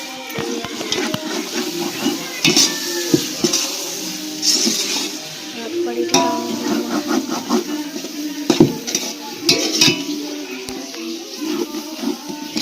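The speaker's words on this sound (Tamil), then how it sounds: "இப்போ தக்காளி நல்லா வதங்கட்டும்." Tomatoes sauté in oil for a 1.5 kg country-chicken biryani, a soft sizzle and hiss broken by repeated spoon scrapes and sharp clinks against the pan, close by with no talk.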